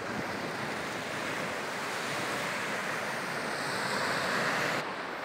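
Sea surf washes continuously onto a sandy beach on the Baltic coast at Ventspils, a steady broadband roar of breaking waves with some wind buffeting the microphone, no voices.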